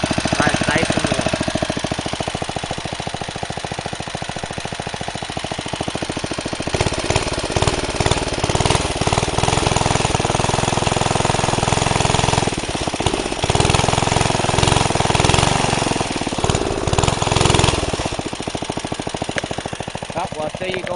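Older minibike fitted with a new engine runs loud and close on a ride, a rough chattering single-cylinder clatter that rises and falls in bursts as the throttle changes, with a voice briefly talking.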